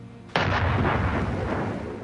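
A single heavy World War I artillery gun blast bursts in suddenly after a quiet start, then rolls and rumbles away in a long, slowly fading boom.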